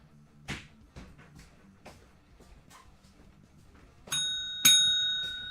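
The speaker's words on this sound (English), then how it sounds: "Ringing the bell for Eric." Two bright bell rings, the second following shortly after the first, each leaving a ringing tone, after a stretch of quiet shuffling and small knocks.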